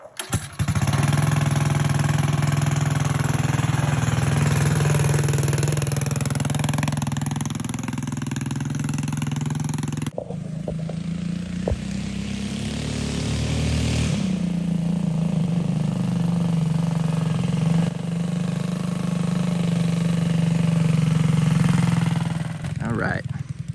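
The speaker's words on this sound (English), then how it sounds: "Oh yeah, fired up. Sounds good." A Coleman 196 minibike engine runs steadily after starting, a loud close drone that shifts pitch midway as the throttle changes, with people talking over it.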